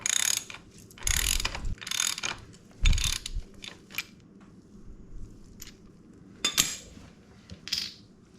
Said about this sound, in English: I'm going to hold the crank here, and I'm going to spin the impeller, clockwise?